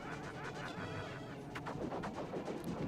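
Rapid bursts of gunfire while shooting at a boss's eyes in the video game Star Fox, quiet but continuous sharp blasts in quick succession throughout.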